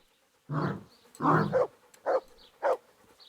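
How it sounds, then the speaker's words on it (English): A large dog in the Kingdom Come: Deliverance video game gives four deep, gruff barks spaced about half a second apart, loud and near, with quiet gaps between them. "Bark."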